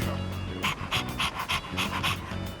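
A dog pants in Persona 3 Reload, a quick string of rhythmic breathy huffs in short bursts, close and clear over quiet game ambience.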